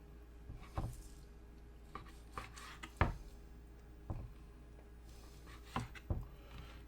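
A knife trimming fat from raw pork chops on a cutting board, heard as a series of distinct cutting thumps and scrapes spaced about a second apart over a low background hum, close and moderately loud, with no talking.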